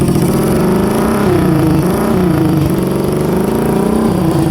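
A Suzuki Shogun 125RR motorcycle fitted with a loud aftermarket exhaust and a dB killer, its engine running and revving up close with a raspy, continuous burble that swells and dips slightly, loud throughout.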